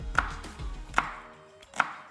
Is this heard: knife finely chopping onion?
yes